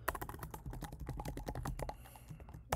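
Rapid clicking of keys on a computer keyboard while typing in a code editor, a dense run of close, crisp keystrokes that thins out toward the end, with no voices.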